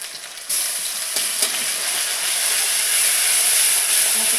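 Onions fry in a hot pan, giving a steady, bright sizzle and hiss that swells slightly after a soft start and then holds evenly with no talking.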